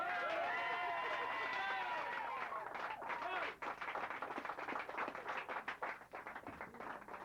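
Audience applause at a live music session breaks out as a song ends, then dense clapping fills the second half of the clip.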